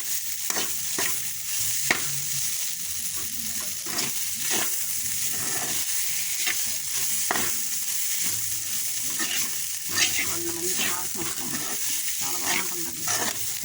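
Coconut powder, garlic and ginger fry in a pan for ponnaganti greens, a close, hissing sizzle with regular scraping stir strokes and soft knocks against the pan throughout.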